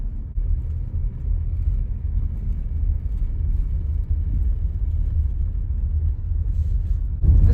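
A van rolls along a dirt road, its cabin filled with a constant low, heavy rumble of tires and engine that holds steady throughout, heard from inside the vehicle.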